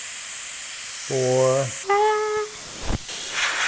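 Pressure is released from a fizzy mango container carbonated at 12 psi: a steady airy hiss for about two seconds, then excited vocal exclamations and a brief burst of rushing air.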